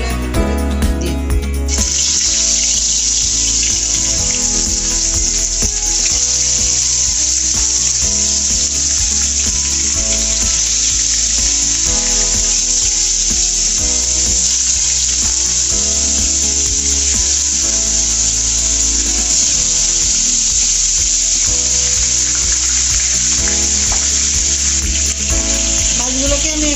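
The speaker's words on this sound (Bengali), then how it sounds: "বন্ধুরা, তেল গরম হয়ে গেছে, আমি এখন মাছগুলো একটা করে দিয়ে দেব।" Katla fish pieces fry in hot oil with a loud, continuous bright sizzle that starts abruptly and holds steady throughout, accompanied by faint clinks and kitchen sounds.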